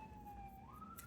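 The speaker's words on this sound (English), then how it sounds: "sorry about the sirens, guys" A faint, distant emergency siren wails in a steady tone that rises slightly near the end, brief and low in level with no talking.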